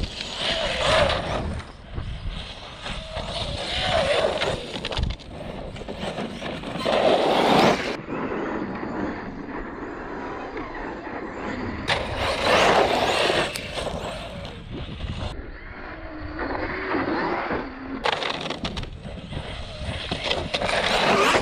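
A 1/8-scale HPI Flux Truggy RC car on 6S power runs at high throttle, its electric whine rising and falling in repeated loud bursts over rough, windy outdoor noise, with no talking.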